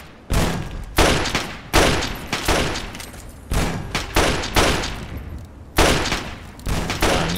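Gunfire in the video game Fallout 3 cracks out in loud, close bursts of several shots, each group separated by short gaps, repeating irregularly through a combat scene without speech.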